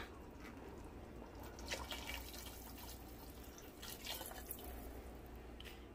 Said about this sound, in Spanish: Así va la sopita, ya está hirviendo.